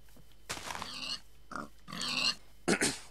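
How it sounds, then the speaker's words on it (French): Pigs in a video game grunt and oink in several separate bursts, fairly close and clear, with short pauses between calls and no talking over them. "Plein de cochons."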